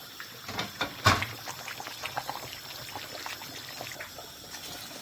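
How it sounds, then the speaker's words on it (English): Dried uziza leaves being washed in water, with a sharp pour followed by intermittent close splashes and trickles, and no talking. "So now let me wash the uziza leaf."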